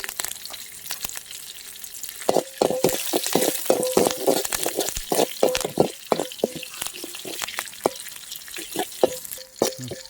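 Green chillies fry in oil in a pan, crackling and popping in irregular bursts with brief stirring scrapes, fairly close.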